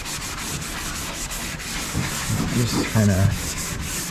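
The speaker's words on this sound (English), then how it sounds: "We're gonna just scuff it up with a Brillo pad to get the surface to adhere." A jon boat hull is scuffed by hand with a Brillo pad before bed liner coating, producing rapid, rhythmic rubbing strokes up close, with someone briefly speaking over it near the end.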